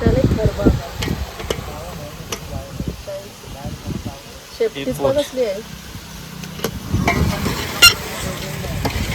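Freshwater fish frying in a pan outdoors, giving a steady close sizzle with scattered clinks and stirring scrapes while people talk over it.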